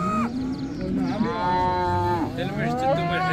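Cows moo loudly and close at a livestock market in Settat, two or three long, drawn-out calls in quick succession over a low background murmur.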